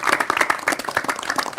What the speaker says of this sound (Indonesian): Tepuk tangan buat Bang Sani.